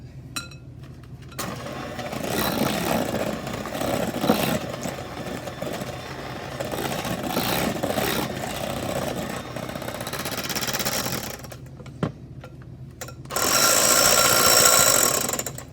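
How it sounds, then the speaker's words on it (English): An electric mixer with beaters whirs steadily through a bowl of pudding mix, a continuous mechanical drone with slight rises and a brief clink, then a louder burst of higher speed near the end. "So now we're finished with the electric mixer."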